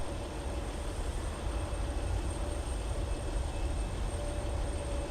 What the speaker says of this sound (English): here's our arrival from Atlanta. Delta 2825 now in the house